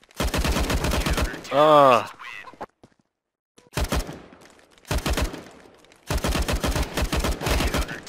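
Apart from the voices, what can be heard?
gunfire in CS:GO video game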